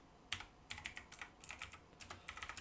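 Quick, steady computer keyboard typing of Django Python code, clear close clicks in rapid bursts with brief gaps, no voices.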